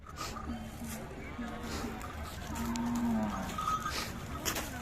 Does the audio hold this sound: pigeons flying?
no